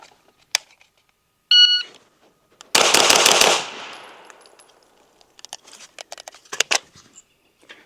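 At a shooting range, a Springfield Kuna and an AP5-P fire their last rounds: a short timer beep, then a quick loud string of pistol-caliber shots, followed by scattered sharp shots and faint clicks.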